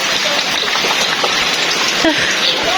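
Steady rain falls near a corrugated metal sheet where water is pouring off, a dense, even hiss of drops that stays constant and fairly loud throughout with no voices.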